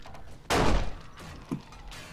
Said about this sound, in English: Edgar just smashed through the wall.